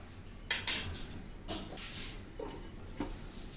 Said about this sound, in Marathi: त्याच्यावर मी ते झाकण ठेवते